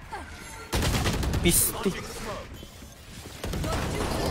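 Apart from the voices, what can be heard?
shotgun gunfire in a video game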